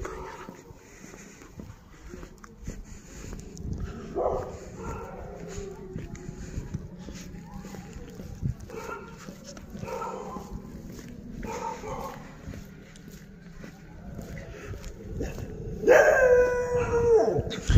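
Dogs bark and howl at night in the streets of Shakargarh city, distant and fairly faint under steady background hum, with scattered barks and a louder, closer howl near the end.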